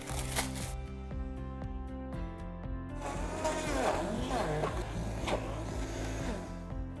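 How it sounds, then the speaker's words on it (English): An electric blender whirs through frozen bananas to make dairy-free banana ice cream, a steady grinding roar that builds from about three seconds in, under background music. "Just put them in a blender."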